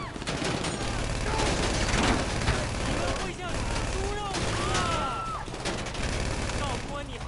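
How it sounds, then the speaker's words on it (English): Enemies shooting in GTA Online, a dense, continuous crackle of gunfire and rapid bursts under game noise and music, steady and fairly loud throughout. "And they start shooting 2 blocks away."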